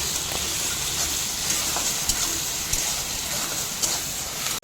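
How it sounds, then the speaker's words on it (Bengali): Onion and chopped tomato with salt frying in a pan give a steady, close hiss of sizzling oil, with occasional soft knocks of a stirring spoon and no voices. "বন্ধুরা টমেটোটা খুব ভালো মতো কষিয়ে নিচ্ছি"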